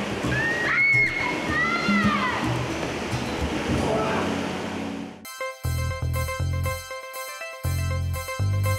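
Strong current of water rushes through the inside of Bagao Caves along the Cagayan River in the Philippines, a loud, dense roar for about five seconds before music abruptly takes over.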